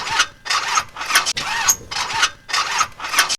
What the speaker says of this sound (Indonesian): Ayahnya Bima mencoba menjalankan mesin kembali